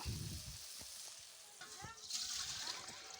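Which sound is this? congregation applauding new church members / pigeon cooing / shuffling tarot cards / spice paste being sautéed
spice paste being sautéed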